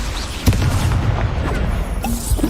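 A fire spell, Incendio, cast in the video game Hogwarts Legacy, heard as a sharp burst and whoosh over a steady rumbling game background, with a second flare-up near the end.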